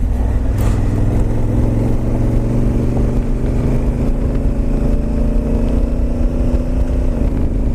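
A Honda Africa Twin motorcycle in traction control mode 1 gets a brief throttle stab while riding, its engine holding a loud, steady drone with rising harmonic tones and wind noise throughout.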